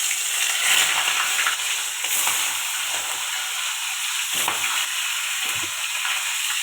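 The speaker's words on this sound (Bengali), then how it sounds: "তেল গরম হয়ে গেছে, এবার মাছগুলো ছেড়ে দেবো।" Khoira fish frying in hot oil in a kadai, a steady loud sizzle with bubbling crackle throughout and a few brief bursts, no voices.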